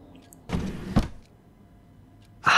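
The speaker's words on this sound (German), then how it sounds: "Kann ich noch mehr Schubladen öffnen?" Two drawers slide open in the video game Life is Strange, each a brief broadband scrape-and-thunk about half a second apart, followed by a short clack near the end against a quiet room tone.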